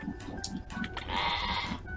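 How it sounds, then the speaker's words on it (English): Goats and pigs fighting on a farm in a video game, heard as goat-like bleats and bursts of animal noise in quick succession, fairly loud against a busy background. "The pigs and the goats are fighting."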